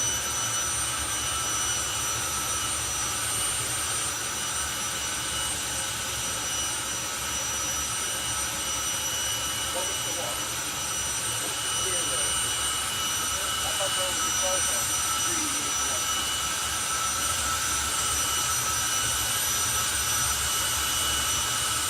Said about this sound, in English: And the jet is lit.